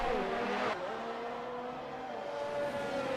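Race car engines in a sim racing game, Mexican Grand Prix round, with glitching engine audio: a steady droning tone with a sudden cutout and shifting pitch, continuous and moderately loud with no talk.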